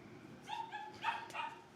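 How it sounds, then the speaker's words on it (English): Several dogs bark indoors in short, high yips and woofs in quick succession, fairly faint and somewhat distant, with no talking. "And my dogs are going to bark."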